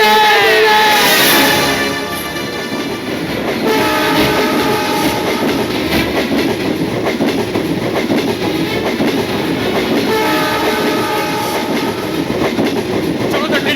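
Train passing close by with a horn sounding at the start, then a steady loud rumble and rhythmic clickety-clack of wheels on rails, with faint voices underneath.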